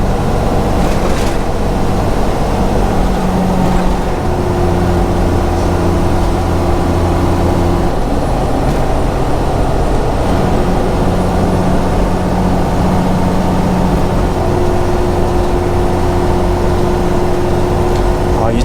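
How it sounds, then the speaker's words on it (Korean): A heavy truck's engine brake drones steadily at about 48 mph on a 6% downgrade on I-70 westbound in Colorado, a deep continuous rumble with a faint tonal hum, no voices. "엔진 브레이크 소리가 좀 크게 들릴 거예요."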